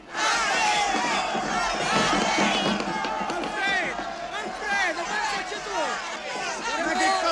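An agitated crowd shouting and clamouring outside a cinema, many overlapping voices yelling loudly and continuously with rising and falling cries throughout.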